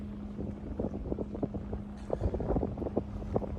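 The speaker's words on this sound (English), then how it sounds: "It might be a little bit windy, it might be a little bit noisy." Wind gusting across a seaside promenade in Cyprus, rumbling against the microphone in uneven low bursts over a faint steady hum, fairly quiet overall.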